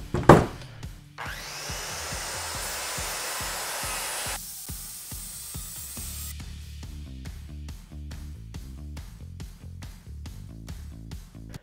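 A circular saw cuts through a live edge wood slab with a loud sustained whine and grinding rasp, then drops into a steady knocking rhythm as the cut finishes.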